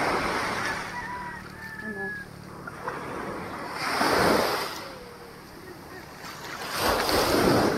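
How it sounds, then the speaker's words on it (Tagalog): Heavy surf rolls and crashes in repeated surges at Ransohan Beach under strong wind buffeting the microphone, with a few faint voices mixed in. "Sobrang lakas ng alon guys. At nakakatakot yung tunog."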